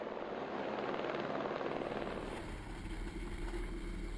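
A helicopter hovers while positioning cables for building the Timber Trail, giving a loud, steady rotor and engine roar that holds throughout with no talking.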